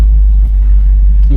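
A 1960 Cadillac Series 62 rolls along on a cold-weather test drive, its engine a heavy, steady low rumble that fills the cabin from close by.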